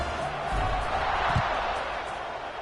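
A stadium crowd in the College Football 26 video game, North Texas at Wyoming, gives a steady, moderately loud roar of cheering during a kickoff. A low thump comes midway, and no voices stand out above the crowd.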